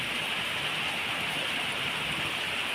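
Heavy rain pouring down in Hyderabad, a dense, steady hiss of falling water at constant loudness with no breaks and no voices.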